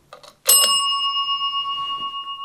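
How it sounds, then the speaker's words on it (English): A small motion-triggered bell in a supposedly haunted house gives a bright, clear ding that rings on with a long, steady, gently pulsing sustain, preceded by a few brief soft clicks. "If you go near this bell right here, it'll make this sound."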